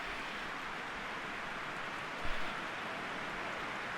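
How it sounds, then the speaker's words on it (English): Steady rain hiss in an eFootball PES 2020 match, an even wash of noise with no voices. "It's already raining here."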